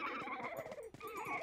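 A horse whinnies loudly and close, a shrill wavering neigh lasting about a second and a half.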